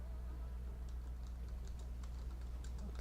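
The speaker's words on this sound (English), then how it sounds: "just typing out something just to make sure everyone's in the voice chat" Faint, quick keystrokes of typing on a computer keyboard tick in uneven little clusters over a steady low hum, soft and close with no one talking.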